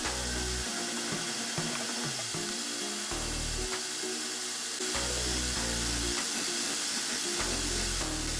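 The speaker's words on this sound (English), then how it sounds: "Now I only have to grind to these lines and polish the resulting facets with finer belts." A belt grinder shaping the facets of a sword blade, a steady hiss and whir of abrasive belt on steel that changes pitch as contact comes and goes, with a hum underneath.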